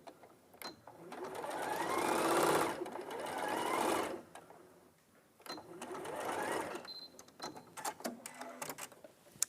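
A sewing machine stitching a seam with a 1 cm seam allowance, two steady whirring runs of a few seconds each, separated by a brief pause with small handling clicks.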